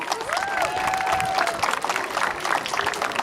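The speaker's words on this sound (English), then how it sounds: "A round of applause for all of you." Crowd applause and cheering at an outdoor Walk to End Alzheimer's fundraiser at Palo Alto College in San Antonio, a steady dense wash of clapping with a whistle-like tone rising over it.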